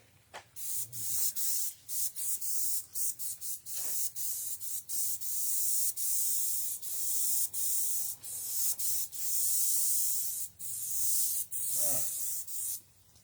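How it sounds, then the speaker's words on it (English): Airbrush spraying oil paint: close, breathy hissing bursts that start and stop in an irregular rhythm, with short pauses between sprays. "Airbrushing in oils this morning."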